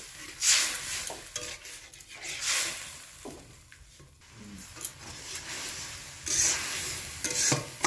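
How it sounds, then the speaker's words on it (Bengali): Sour okra chutney stirred in a pan with a little added water, giving a steady wet scraping and soft sizzle with occasional utensil clinks against the pan, close by and without talk. "এরকম জল দিয়ে এবারে নাড়তে হবে"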